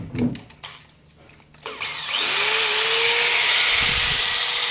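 A power screwdriver spins a two-inch screw with its head cut off, used in a carpentry job. A few short trigger bursts are followed by a loud, steady, close motor whine that holds to the end.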